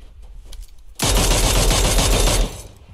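Automatic gunfire from a Mini rifle in PUBG Mobile on the Miramar desert map: a loud, dense burst of rapid shots that lasts about a second and a half and then stops abruptly, with no voices.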